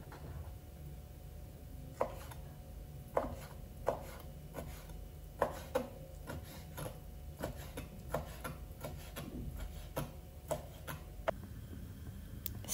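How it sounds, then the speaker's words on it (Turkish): A knife finely chopping tripe on a cutting board, sharp distinct taps landing at an uneven, unhurried pace over a quiet background, with no talking. "İnce ince doğrayalım."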